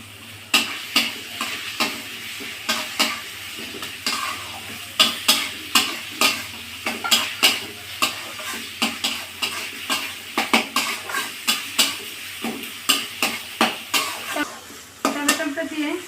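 Chopped tomatoes sizzle in spiced oil while a spoon stirs and scrapes the pan in steady, repeated strokes, with clinks of metal on the pot over a constant frying hiss; no one talks.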